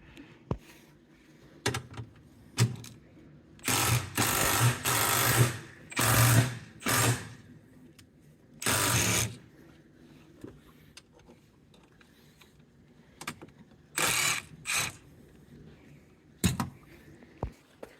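A Milwaukee stubby impact wrench removes bolts while a Blitz strut bar is fitted to a Toyota A90 Supra, with clustered bursts of loud buzzing hammering between short taps and quiet gaps, close to the listener.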